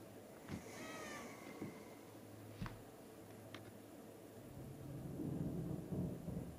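An orange cat meows in a drawn-out, wavering cry, followed by a few fainter chirps and a low rumbling swell, all fairly quiet with no voices.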